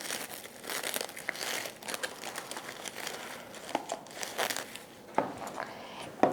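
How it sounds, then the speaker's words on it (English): Plastic packaging crinkles and crackles as it is unwrapped from paint, close up in irregular rustling bursts with a few sharper snaps and no talking. "So I'm going to unwrap the paint here."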